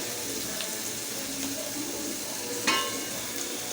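Onions fry in oil in a pan with a steady, even sizzle, while a utensil scrapes and stirs them in soft, irregular strokes. One sharper clink of metal stands out partway through. No one speaks.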